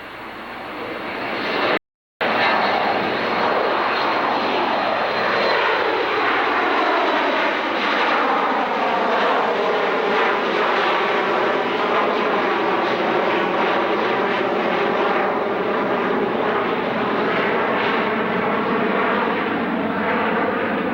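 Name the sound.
Amerijet Boeing 727 with winglets at Dallas-Fort Worth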